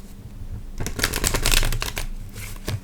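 A tarot deck is shuffled by hand in close, crisp riffling bursts that swell in the middle and taper off, with no talking over it.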